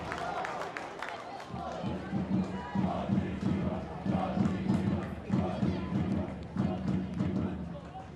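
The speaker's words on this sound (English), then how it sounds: "Crowd let her know." A stadium crowd at a women's A-League football match between Wellington Phoenix and Newcastle Jets roars and claps in rhythmic pulses. The crowd sits in the background under steady commentary.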